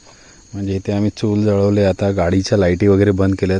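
Crickets chirp steadily at night around an outdoor riverside camp cookout by a lit wood stove near Poladpur, a thin constant high drone running beneath someone talking close to the microphone.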